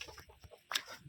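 A chicken clucks a few times close by, in short soft bursts with a brighter squawk near the end, on a farm where goats and cows are also kept.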